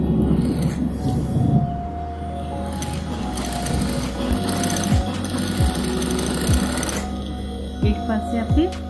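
A sewing machine stitches fabric for a handmade bag, its mechanical clatter and whirring running steadily up close, with occasional sharp sliding clicks and a voice faintly in the background.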